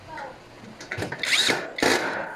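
A power driver runs screws into a gray three-drawer metal mobile pedestal during assembly, giving two close, short whirring bursts with brief clatter between them.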